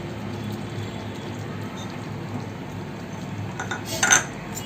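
Spoon stirring Malvani-style surmai fish curry in a pot, a soft, steady scraping swirl close by, with a brief clink of metal near the end.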